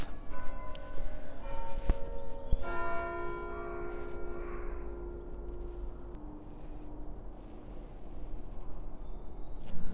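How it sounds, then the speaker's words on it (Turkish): A church bell in St Albans, England, tolls the hour with a few deep, ringing strikes that hum and fade slowly over steady outdoor background noise, heard from some distance. "Burada da her saat başı çan çalıyor."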